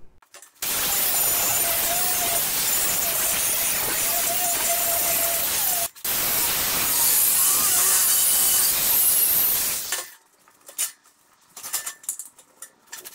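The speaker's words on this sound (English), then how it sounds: "I'm going to grind off these two welds and then I'll reset it and re-weld it" A power grinder cutting off welds on a metal corner jig, a loud harsh grinding that runs steadily, breaks briefly, resumes, then stops, leaving faint clatter and handling noises.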